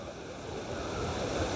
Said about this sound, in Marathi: या कुंभे वॉटरफॉलला पण खूप पाणी आहे